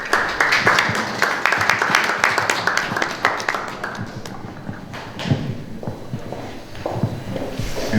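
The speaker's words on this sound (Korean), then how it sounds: "박수로 맞이해 주세요" An audience at an art exhibition event welcomes a speaker with applause, brisk overlapping claps that start strong and thin out into scattered, sparser hits toward the end.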